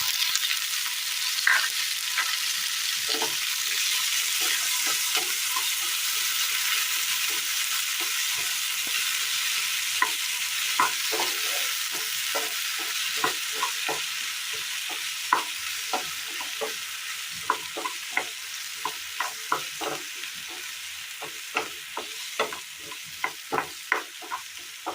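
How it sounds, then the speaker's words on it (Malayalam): Chopped tomato sautéing in a pan for a Kerala curry, with a steady sizzle and frequent sharp scraping and stirring clicks that grow more frequent toward the end, close up with no voices. "തക്കാളി ഒന്ന് വഴറ്റിയെടുക്കാം."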